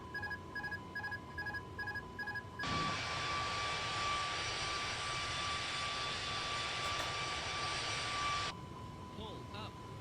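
A flight video game's airplane engine stuck at full throttle, a steady loud drone that starts abruptly, holds for several seconds with a high whine, then drops back, while beeping tones play at the start.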